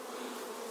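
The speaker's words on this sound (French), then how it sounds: "j'ai pris la reine et un paquet d'abeilles" Honeybees swarm and buzz steadily around a small nucleus hive, a dense, even drone held at close range with no gaps or voices.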